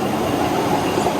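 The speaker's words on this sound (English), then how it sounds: "That noise is from the vacuum cleaner, the big thing that's over there." Large industrial vacuum cleaner running at a car wash in Oman, a loud, continuous broadband roar with a low rumble, steady and close.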